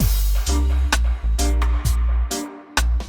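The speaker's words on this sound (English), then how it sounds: "So let's listen to the original piano." Piano chords struck one after another in a steady rhythm, each ringing briefly before the next, played alone and close.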